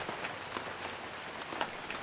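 Rain falls steadily outside a cabin at night, a soft, even patter with scattered droplet taps, faint and continuous with no voices.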